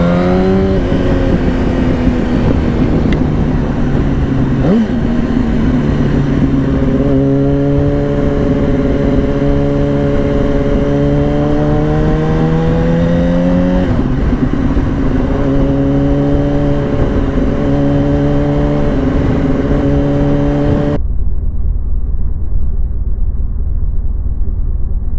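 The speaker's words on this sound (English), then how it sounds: "Oh, I hope the camera's picking up those pops." A 2007 Yamaha R1 motorcycle is ridden, its engine droning steadily and rising in pitch through several gear pulls, with faint exhaust crackles at times. The sound is loud and close throughout and drops off abruptly near the end.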